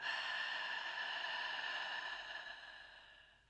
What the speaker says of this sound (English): Nice long breath out.